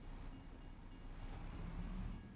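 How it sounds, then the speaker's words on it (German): A train in the farming game Farming Simulator 22 rolls past as a steady, fairly loud low rumble and rush of wagons that swells slightly over a couple of seconds, with no talking. "wenn der Zug hier gerade durchgefahren ist"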